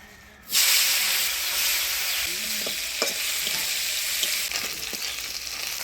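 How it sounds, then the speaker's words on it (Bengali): Dried fish rubbed with turmeric and salt hits hot oil and bursts into a loud, sustained sizzle and hiss, with a few light stirring clinks under the steady frying noise. "শুটকি মাছটা ভালো করে ভাজা ভাজা করে নিলাম।"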